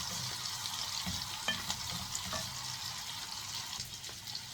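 Garlic frying in a pan for a chicken liver dish, a soft steady sizzle with light stirring scrapes and small crackles, fairly quiet and close, no voices.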